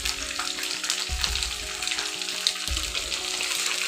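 Steady close sizzle of food frying in oil in a pan, with soft scraping and shifting as the pieces are flipped to cook the other side; no talking.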